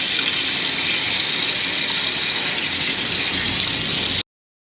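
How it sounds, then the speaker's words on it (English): Water gushes steadily into a cooking pot holding chicken, half an onion, black pepper and salt, a loud continuous rushing pour that stops abruptly near the end. "And then after, you're just going to fill it up with some water."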